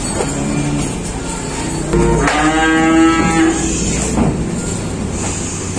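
Cattle and calves at a livestock sale, one loud close drawn-out moo rising over a busy outdoor background of rumbling and murmur.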